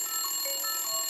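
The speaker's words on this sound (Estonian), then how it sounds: "Mis lärm see on? Mis lärm see on? See on ju minu telefon." Telephone ringing, a brief electronic ring with steady high tones and warbling notes lasting about a second, fairly clear with no talk over it.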